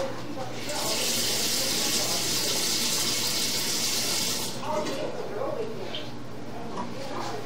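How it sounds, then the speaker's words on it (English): Tap water runs steadily into a sink where a household drain pipe ties in, a close, hissing stream that stops about two-thirds through, leaving quieter room noise with faint chirps. "You can see the water running there."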